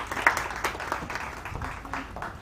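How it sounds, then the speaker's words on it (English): An audience at a scientific merit awards ceremony claps continuously, a dense, even patter of many hands filling the hall, moderately loud with faint voices underneath. "Let's keep applauding until she gets to the stage, ladies and gentlemen."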